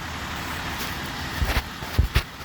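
A diesel V8 city truck passes on a Montreal street, its low engine rumble rising in a few swells over steady street background, moderately close.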